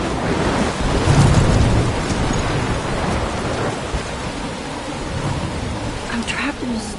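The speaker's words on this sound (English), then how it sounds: "I'm trapped in a storm?" Thunderstorm in the video game Life is Strange, with steady heavy rain and rumbling thunder swelling near the start, a continuous loud wash lasting throughout.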